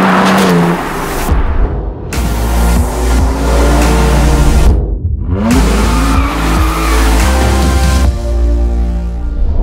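A new 2021 BMW G82 M4 sports car with a manual gearbox drives hard, its engine revving and rising through the gears in a loud, continuous roar with brief gaps between pulls.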